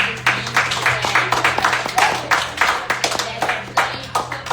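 An audience at a teen truth circle event claps and applauds, a dense run of sharp, fairly close hand claps with an uneven rhythm that holds for several seconds.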